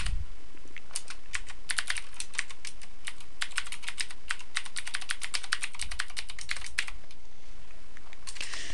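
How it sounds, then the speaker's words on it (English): Rapid, close-up clicking of a computer keyboard as HTML code is typed, bursts of keystrokes continuing for several seconds before a brief pause and a few final taps. "So I'm going to go ahead and type that up."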